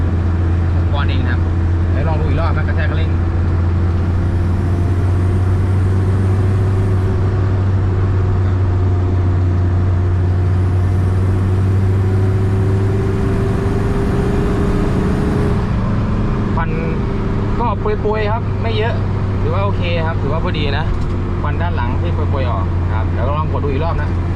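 A car engine with a turbocharger revs while someone talks over it, a loud steady drone that rises in pitch midway and then drops back, with boost building under the revving.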